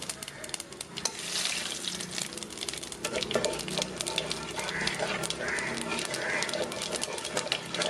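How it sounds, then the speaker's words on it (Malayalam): Cumin seeds sizzle in hot oil, a continuous crackling fry heard close with occasional stirring, steady and fairly loud throughout. "ഇനി നമുക്ക് ഇതേ എണ്ണയിലേക്ക് തന്നെ കുറച്ച് നല്ല ജീരകം ഇട്ട് കൊടുക്കാം."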